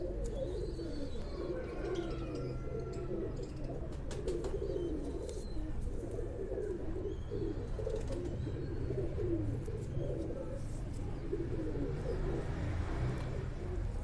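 Sialkoti pigeons from an old Rawalpindi breeding line coo steadily in low, throaty rolls, a continuous close chorus of several birds with faint chirps above and no talk.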